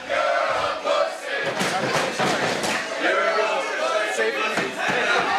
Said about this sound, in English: The crowd telling Bryce not to shake hand.